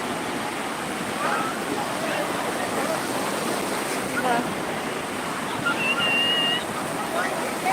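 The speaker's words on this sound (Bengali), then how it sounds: "একের পর এক ঢেউ এসেই যাচ্ছে" Bay of Bengal waves break and rush up the shore at New Digha beach, India, one after another in a continuous roar, with faint voices of bathers now and then in the background.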